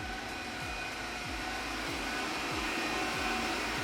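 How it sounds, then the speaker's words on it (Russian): A Roborock Qrevo Curv robot vacuum runs at maximum suction power, giving a steady, even motor whir with a broad airy hiss that holds constant from start to finish. "В общем-то, пылесос очень тихий."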